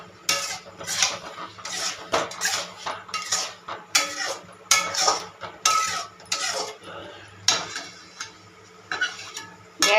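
A tamarind and sugarcane jaggery mixture is stirred in a pan over a low flame, with repeated scraping and clinking of a utensil against the metal pan in irregular close strokes.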